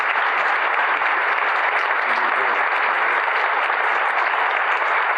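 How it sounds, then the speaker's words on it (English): Enthusiastic audience applause at a 1993 self-help seminar, dense continuous clapping filling the room at a steady level, without voices over it. "Enthusiastic crowd."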